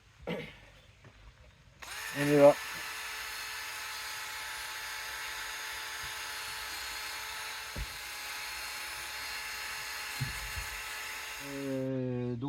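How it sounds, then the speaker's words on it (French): A wire brush spun by an electric drill scrubs metal, a steady high whine and grinding that starts after brief talk and runs for about ten seconds with small bumps, then stops as a voice speaks again. "la petite brosse métallique sur la perceuse"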